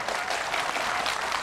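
A studio audience at a television show applauds a young contestant, giving brief, even, moderately soft clapping with no pause.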